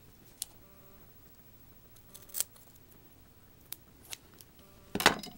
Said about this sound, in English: Take one of the dimensionals and you're going to cut that in half.